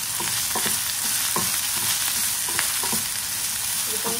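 Cut okra frying in hot oil in a pan, a steady close sizzle with occasional stirring scrapes and soft pops throughout, no talk.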